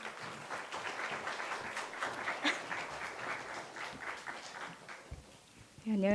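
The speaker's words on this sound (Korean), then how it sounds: "우리 박수로 한번 격려해 주시기 바랍니다." A congregation in a Seoul church worship service applauds, a soft, dense crackle of many hands heard from a distance, fading toward the end as a voice begins.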